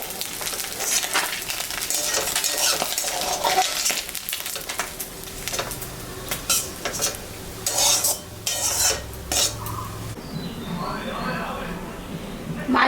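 Small fish such as moya and darka fry in hot oil in a home kitchen, a steady sizzle broken by the scrape and clink of a spatula against the pan, with a voice speaking.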